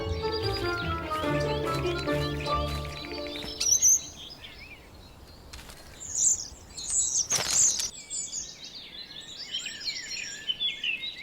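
A male starling sings loudly to attract a female, a dense run of rapid whistles, clicks and chattering notes with wing flutters in a springtime Central European woodland, close and continuous.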